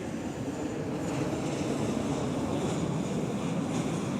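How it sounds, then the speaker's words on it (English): Swoop airliner landing on runway 06 at Toronto Pearson airport on a cold, snowy day, a steady broadband jet roar rising slightly and holding loud throughout with no talking. "We got swoop. Swoop. Swooping in on runway"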